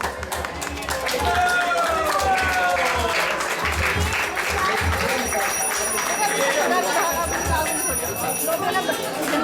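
Big round of applause from a crowd at an ISKCON temple festival in Atlanta, clapping spread steadily through the clip while chatter and voices carry on beneath it.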